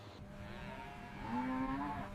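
A bull or cow at a large cattle operation lets out a single drawn-out low moo that swells and bends upward in pitch, heard faintly at a distance over quiet room ambience.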